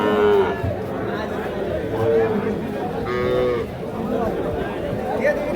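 Sahiwal calves and cattle moo repeatedly at a busy livestock market, several long calls rising over a steady crowd chatter, with people talking nearby.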